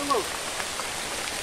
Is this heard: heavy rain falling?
yes